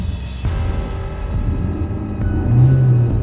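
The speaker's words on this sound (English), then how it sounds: "Stephen suddenly stepped on the accelerator" A car accelerates hard, a steady low engine rumble swelling louder over a few seconds as it speeds off, with no one talking.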